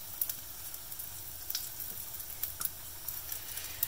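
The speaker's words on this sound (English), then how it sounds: "The mustard seeds are spluttering" Mustard seeds sputter and pop in hot oil for a rasam tempering, giving faint, scattered crackles and sharp ticks over a soft, quiet hiss.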